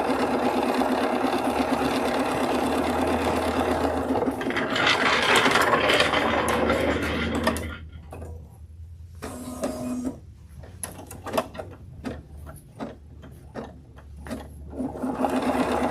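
A sewing machine stitches steadily at close range for about eight seconds, a continuous mechanical whir, then gives way to quieter clicks and handling noises.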